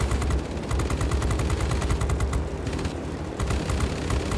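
B-29C bomber guns in World of Warplanes firing in a continuous rapid rattling burst, loud and steady throughout, with no voices.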